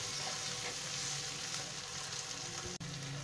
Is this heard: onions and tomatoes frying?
yes